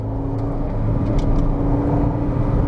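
A Honda Civic EG6 on Tein H-Tech springs with OEM bushings, driven at a spirited pace, with a steady engine drone and road noise heard from inside the cabin throughout.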